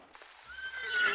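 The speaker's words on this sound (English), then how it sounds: "Was that a fucking horse?" A horse whinnies in the video game Repella Fella, a rising neigh that swells louder over about a second against a quiet rainy background.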